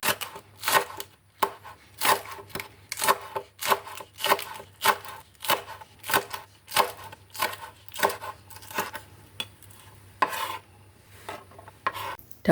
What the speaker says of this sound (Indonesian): Lalu potong-potong 1 batang daun bawang.